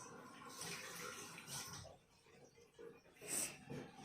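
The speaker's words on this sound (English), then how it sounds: "Meanwhile, I wash my hands." Tap water runs softly while hands are washed at a sink, a faint uneven splashing and trickling that comes and goes over a few seconds.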